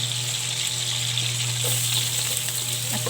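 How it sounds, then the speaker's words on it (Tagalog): Food frying in a pan sizzles steadily and loudly up close, a constant crackling hiss with a few small pops and stirring scrapes. "Ngayon, pinirito, guys."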